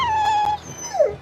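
A dog in the video game Tales of Berseria lets out a close, loud whining howl that slides down in pitch, then gives a second, shorter falling whimper.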